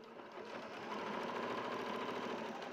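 A sewing machine stitching down fabric layers runs steadily with a fast, even mechanical whir and rattle, close and continuous throughout.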